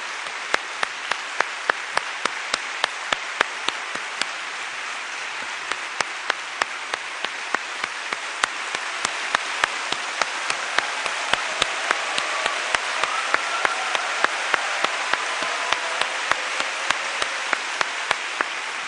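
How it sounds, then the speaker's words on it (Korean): Audience applause greets someone speaker, Dr. Seo Jin-gyu, as she is welcomed onto the stage at a testimony event, a steady, dense wash of clapping that holds for the full stretch with no voices over it. "큰 박수로 맞아주십시오."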